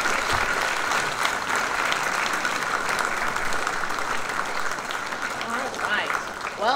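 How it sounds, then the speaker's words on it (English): School assembly audience gives students a big round of applause, a loud continuous patter of many hands with a few faint voices mixed in. "let's give all these students a big round of applause"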